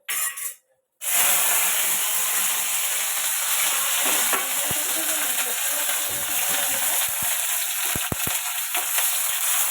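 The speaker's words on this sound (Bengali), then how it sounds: "ভেন্ডি আলু ভাজবো আর হচ্ছে তার সাথে বেগুনও ভাজবো" Okra, potatoes and eggplant frying together in a pan give a loud, continuous sizzle after a brief quiet start, with occasional sharp clinks of a utensil against the pan.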